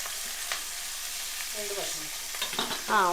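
Onions and curry leaves fry in a pan for egg curry, with a steady sizzling hiss and a few scraping stirs and utensil clinks, close and moderately quiet.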